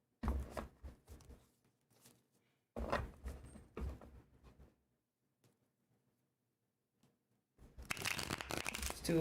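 A deck of tarot cards is shuffled in short bursts of riffling and sliding, separated by quiet pauses, ending with a louder, fuller shuffle close to the listener.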